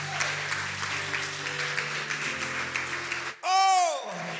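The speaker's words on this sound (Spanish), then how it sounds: "Aplauda al Rey de Gloria" A church congregation applauds steadily for about three seconds under a low sustained tone, then the clapping breaks off and a single voice rings out loudly.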